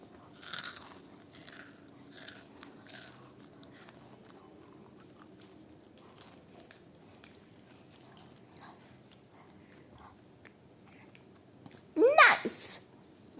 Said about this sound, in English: these balls are so crunchy